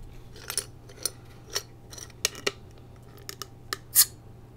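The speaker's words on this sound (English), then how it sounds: "I always love the sound of glass." Glass bottles and glassware for a dark beer clink and tap in a quiet room, a series of sharp, close, separate ticks and chimes spread unevenly, the loudest near the end, with a low steady hum beneath.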